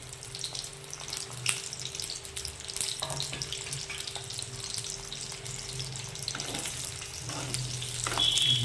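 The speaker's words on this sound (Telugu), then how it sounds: "చిన్నగా ఫ్రై చేసుకోవాలి. దొండకాయలు వేసుకోవాలి." Ivy gourd (tindora) frying in oil in a home kitchen, a steady crackling sizzle with occasional stirring scrapes and bursts, close and continuous, swelling slightly toward the end.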